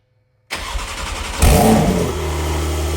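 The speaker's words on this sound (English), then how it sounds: "first startup with the Sport Cats" A Porsche 992 Turbo S fitted with sport catalytic converters cranks and fires after half a second of silence, flares into a loud rev, then settles into a deep, steady idle with exhaust drone.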